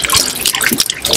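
Water pours from an ancient Inca stone spout at Machu Picchu, a loud, close, bright splashing trickle falling continuously.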